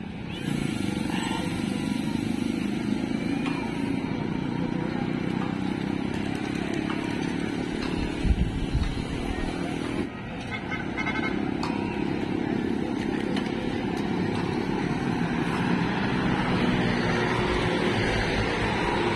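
Several motorcycles rev loudly during practice runs on a bridge in Navotas, a continuous buzzing engine roar with surges and a brief dip, people talking faintly underneath.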